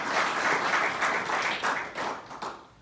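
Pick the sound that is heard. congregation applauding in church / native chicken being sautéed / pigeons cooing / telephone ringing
congregation applauding in church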